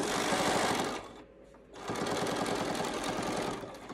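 Domestic sewing machine running locking stitches on a fabric face mask, a loud steady mechanical whir with rapid needle chatter that pauses briefly mid-run before resuming close and alone.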